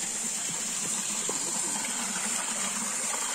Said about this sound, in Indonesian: Ini air mengalir, begitu indahnya.